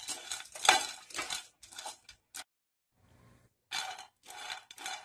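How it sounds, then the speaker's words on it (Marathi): Dried dates are dry-roasted in a pan, producing irregular clattering and clinking bursts as the hard pieces are stirred against the metal, close by, with a short silent pause midway. "आता आपण ही जी खारीक घेतलेली आहे तीही गरम करून घेणार आहोत"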